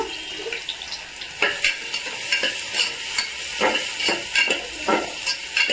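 Sliced onions sautéing in hot oil in a pan while cooking stuffed brinjal curry, a steady soft sizzle broken by repeated scraping stirs of a spoon, close and fairly loud, no voices.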